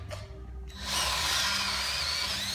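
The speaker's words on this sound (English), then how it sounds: "So we start with the smallest drill bit, and then you sort of walk it up, do bigger and bigger and bigger until you have the right size hole" After a brief quiet start, a power drill spins up and whines steadily and loudly up close, boring a hole for a rail corner bracket in an artist's studio.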